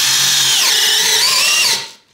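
A Parkside Performance 12V cordless drill driver whines steadily at high speed, its pitch dipping briefly under load, then spins down and cuts off near the end as its battery runs out.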